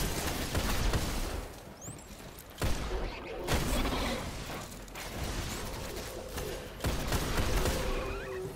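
Gunfire in a video game: a few sharp shots ring out among busy, noisy in-game sound effects, with no talking over them.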